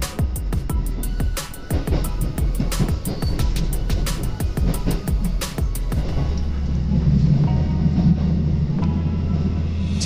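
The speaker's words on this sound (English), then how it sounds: "This is the train we will take." A Japanese passenger train on the line toward Yonezawa, Yamagata rumbles past close by with rapid rhythmic wheel clicks over rail joints, then settles into a lower steady roar and hum as it slows.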